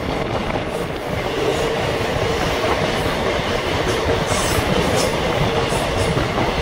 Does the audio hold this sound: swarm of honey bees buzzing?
no